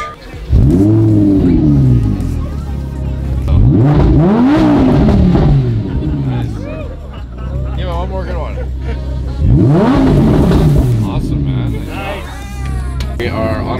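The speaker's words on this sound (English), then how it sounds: "so that is the V12 Murcielago. I'm just gonna turn, flip up the uh, ignition switch." A Lamborghini Murcielago V12 starts and revs hard, its pitch climbing and falling in three big sweeps over a deep idle, loud and close, with some talk over it.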